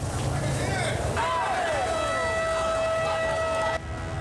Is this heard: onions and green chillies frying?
no